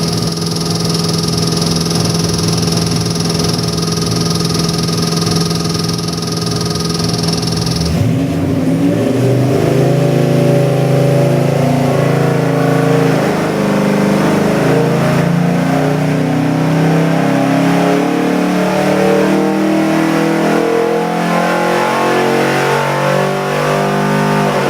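Freshly built 1969 Mustang 427 cubic inch stroker V8, based on a 351 Windsor, roaring as it revs hard, then settling into a loud, lumpy idle with rising and falling throttle blips, close and steady throughout.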